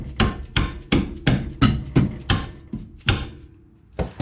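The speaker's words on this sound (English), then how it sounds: "A couple of dead blow whacks." A dead blow hammer whacks a rear brake part on a 2009-2015 Hyundai Tucson 2WD, about ten dull, evenly spaced close thuds, then a short pause and two more blows.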